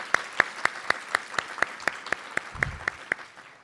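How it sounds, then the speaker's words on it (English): Sparse, evenly spaced claps ring out about four times a second at an induction ceremony, sounding like only one or a few people clapping in a quiet hall, with a brief low thump partway through. "Let's give her a round of applause."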